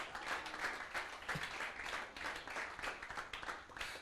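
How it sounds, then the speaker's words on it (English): Applause from an audience at a CcHub Nigeria event, a quiet, somewhat distant patter of clapping that carries on steadily throughout. "So a round of applause to the comms team."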